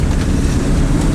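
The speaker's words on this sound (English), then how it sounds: "The engine is purring along beautifully." A V8 car engine fitted with a Holley carburettor runs smoothly and steadily, a dense, continuous low rumble heard close while the car is driving, with no talking over it.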